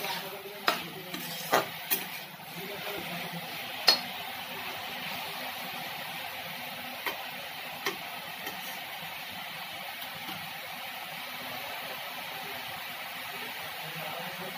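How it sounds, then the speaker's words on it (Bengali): Pumpkin greens frying in a pan with a steady soft sizzle, broken by a few sharp knocks of a spatula as they are stirred, loudest in the first few seconds. "এটাকে আমি আরেকবার নেড়ে চেড়ে দেবো।"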